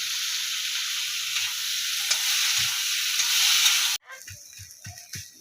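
Taro greens with chili and turmeric fry in a pan with a steady loud sizzle and hiss, then the sizzle cuts out and a spoon scrapes and stirs the greens in a few soft, rhythmic strokes.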